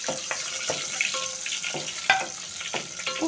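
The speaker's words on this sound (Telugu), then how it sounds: "ఇప్పుడైతే మనం పచ్చిమిరపకాయలు వేపించుకుని ప్లేట్లో తీసేసుకుందాం" Green chillies frying in a pan of oil for a small-fish tamarind stew, a close crackling sizzle with scattered spatters and stirring clicks throughout.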